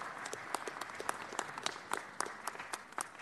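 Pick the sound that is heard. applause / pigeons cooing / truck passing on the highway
applause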